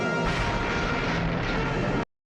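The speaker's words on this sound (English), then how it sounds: "Fire phasers, Mr. Chekhov." Photon torpedo firing effect from the original Star Trek series, heard as a loud, sustained roaring burst lasting about two seconds before cutting off abruptly, with no talk over it.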